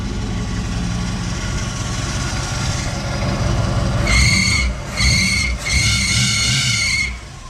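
An 1984 Camaro Z28 engine idles loudly, then a loose belt squeals sharply in three bursts, slipping and catching near the engine.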